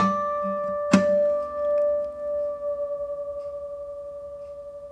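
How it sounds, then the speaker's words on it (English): Two guitar harmonics slightly out of tune ring together after a sharp pluck, their sustained tones wobbling in a slow, steady beating pulse that fades quietly. "the two notes are wobbling or beating together"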